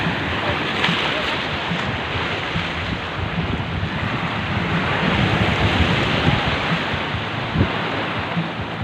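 Sea surf at Bawang Beach washes in a steady, dense roar with heavy wind buffeting the microphone, loud and close throughout, with no distinct wave breaks standing out.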